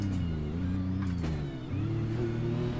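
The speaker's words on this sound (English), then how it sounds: "all you hear is transmission whine in this car" A race car engine hums steadily with a loud transmission whine that shifts pitch as speed changes, heard from inside the cabin of a new pro chassis car on a test track.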